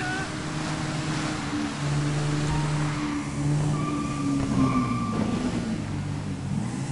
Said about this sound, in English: These are the best bikes for the terrain.